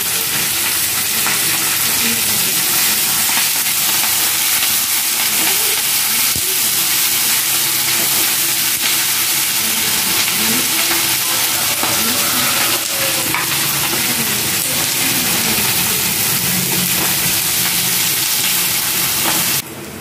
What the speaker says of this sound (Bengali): এই যে পেঁয়াজটাও বেশি ভাজবো না, লাল লাল করে ভাজবো না